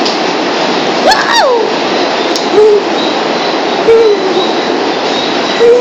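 Loud, steady rumble and rush of a moving train heard from inside an empty passenger car, with brief squeals and a short excited shout over the constant roar.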